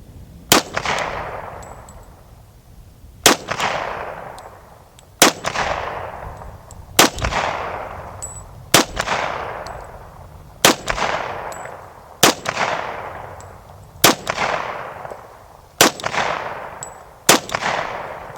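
A Citadel 1911 .45 ACP pistol firing semi-wadcutter rounds at an outdoor range, ten loud sharp shots in an even, deliberate rhythm about two seconds apart, each followed by a fading ring and echo, with no talking.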